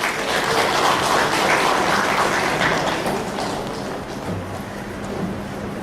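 An audience applauds at a symbolic presentation event with the Mayor of Colombo, a dense, steady clapping that fills the clip and fades slightly toward the end.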